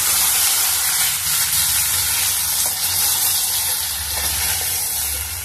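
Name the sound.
stirring potato and tomato pieces in a pan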